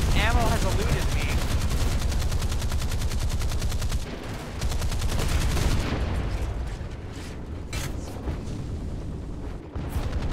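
Heavy naval gunfire from a Fletcher-class destroyer firing armor-piercing rounds at an enemy ship in War Thunder, rapid and loud booms with rumbling explosions, sustained across the clip.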